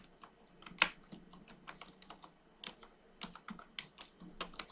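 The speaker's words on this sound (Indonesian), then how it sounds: "mengetik 10 jari." Ten-finger touch typing on a computer keyboard, a steady run of close, crisp key clicks with irregular rhythm and a few sharper, louder strokes, heard alone without talk.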